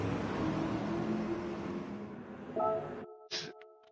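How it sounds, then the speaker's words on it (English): Race car engines in Gran Turismo 7 drone steadily at a moderate level for most of the clip, then cut off abruptly near the end, followed by brief tonal game sounds. "We're scaring wildlife with our loud engines."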